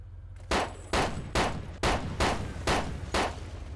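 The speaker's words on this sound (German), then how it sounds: "Schieß mal mit dem MG drauf" Bursts of machine gun fire in the survival game DayZ, seven loud evenly spaced volleys crackling one after another over a low steady background hum.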